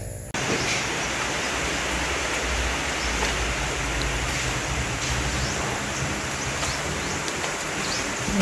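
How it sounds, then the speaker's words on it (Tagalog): Steady afternoon rain pours down in a dense, even hiss that stays loud and constant from start to end, with no talk. "Isang magandang hapon na naman, umuulan na hapon."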